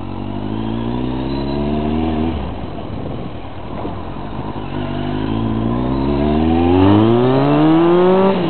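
A Kawasaki ZRX 1200 motorcycle accelerates hard with a rising engine whine, drops pitch at a gearshift, then climbs again even louder through the next gear, with no talking over it.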